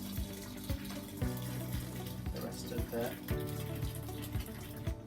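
Ricotta curds and whey poured gently through cheesecloth or a towel in a kitchen, a steady trickling, splashing flow with faint knocks, while a person speaks briefly over it.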